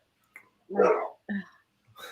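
Dogs barking nearby during an indoor conversation, giving a few short separate barks and yips spread across the moment, fairly close and moderately loud.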